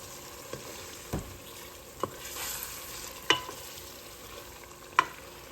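Tomato sauce for baked ziti is stirred in a pan, with a few sharp spoon taps against the pan over a faint, quiet background hiss.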